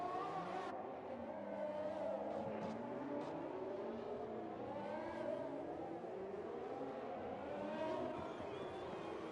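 Formula 1 car on a flying lap around Monaco in the F1 2020 racing game, its engine note rising and falling steadily through gear changes for the whole stretch, loud and continuous, with faint commentary underneath.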